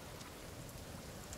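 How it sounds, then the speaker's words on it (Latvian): Steady rainfall in The Forest survival game, a faint, even hiss of drops with no breaks and no voices. "Vēl joprojām lietus līst."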